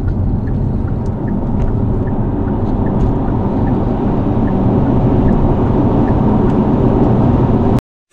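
Hyundai IONIQ 5 electric car launching hard in sport mode from a standstill, a steady loud low whir and road rumble filling the cabin for several seconds before cutting off abruptly near the end.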